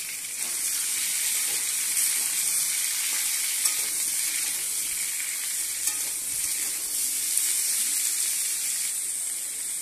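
Steady, loud sizzling of food frying in hot oil, a continuous bright hiss with a few small pops, close by and unbroken throughout.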